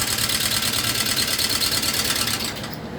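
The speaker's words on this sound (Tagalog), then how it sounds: "Para kumatok ang makina eh." A Honda motorcycle engine runs with a knocking fault, giving a steady, close mechanical clatter that holds evenly and then eases slightly in the last half second.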